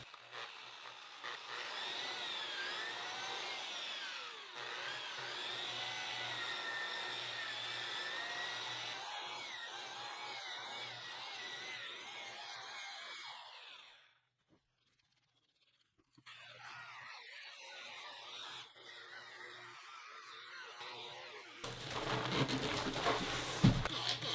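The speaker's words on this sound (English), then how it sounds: "It always pains me to sand this when it's so glossy." A power sander whirs steadily for a long stretch on the glossy sealcoat of a foil SUP board, stops briefly, then resumes, with a louder, harsher burst near the end.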